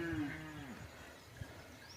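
A calf or cow on a farm gives one drawn-out moo up close, a low bellow that bends downward and fades, followed by faint rustling and a soft thump in a quiet outdoor setting.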